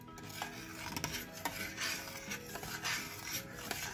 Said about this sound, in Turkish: Hemen ilave edelim. Bir kere karıştıralım.